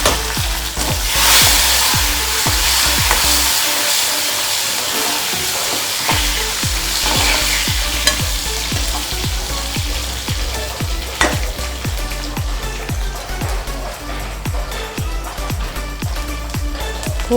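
Garlic frying over a low flame in a pan for dal tadka, a steady loud sizzle with crackling pops and occasional stirring scrapes throughout, no talking.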